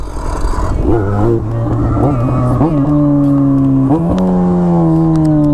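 A Yamaha XJ6 motorcycle revs loudly at close range, its engine note climbing and dropping in several throttle blips before holding a steadier, higher drone.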